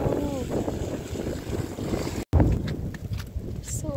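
Strong wind gusts buffet the outdoors during heavy snowfall, rumbling steadily across the whole stretch with a brief dropout, while people talk over the blustery noise.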